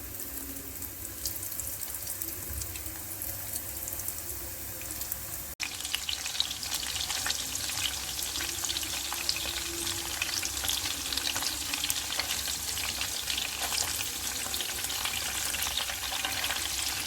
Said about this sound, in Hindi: मीडियम टू लो फ्लेम पर सेसमी चिकन फिंगर्स को फ्राई करेंगे।